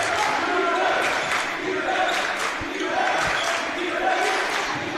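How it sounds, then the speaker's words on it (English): Crowd noise at a high school boys basketball game in a gym, a steady roar of spectators with yells rising and falling, sneaker squeaks and ball bounces mixed in, and a commentator talking over it. "Lynn English crowd making some noise."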